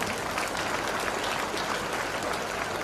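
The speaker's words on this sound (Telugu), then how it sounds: "ఒకసారి గట్టిగా క్లాప్స్ కొట్టారు సార్." Loud, dense applause from a school audience of students fills the whole stretch, steady broadband clapping with no gaps and no voices rising above it.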